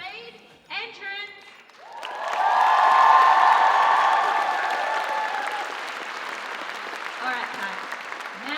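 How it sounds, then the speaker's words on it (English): A convention hall audience at a PAX Aus cosplay parade erupts into loud, sustained applause and cheering with whoops, swelling and then gradually tapering off after a host's brief announcement. "one last cheer thank you for our cosplay parade entrance."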